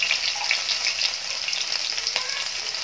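Asafoetida, green chillies, ginger and garlic frying in hot oil give a steady, close, bright sizzle with faint crackles, continuous throughout with no talking.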